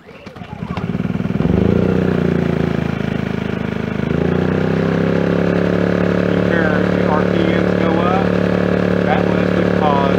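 A Champion 2000 watt inverter generator is pull-started, sputters, then settles into a steady, loud running hum with a slight shift in pitch, while a voice speaks over it.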